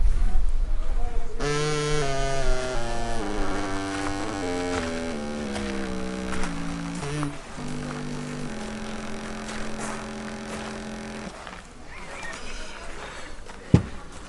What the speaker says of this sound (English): This is a mid to late Renaissance instrument called a racket.